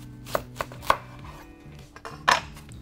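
A knife cutting a brown onion in half on a cutting board, a few crisp chops and board knocks followed by one louder slicing crunch, close and clear.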